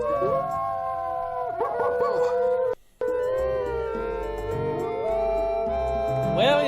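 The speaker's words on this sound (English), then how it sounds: "Well, you stop howling." Dog howling in the PC adventure game Quest for Glory IV: Shadows of Darkness, sustained wavering howls with a brief gap of silence midway, over game music, loud and close.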